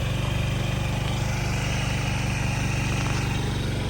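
Honda Dio AF57 scooter engine idling at slightly raised revs, a steady close buzzing putter with an even pulsing rhythm and no pauses or talking.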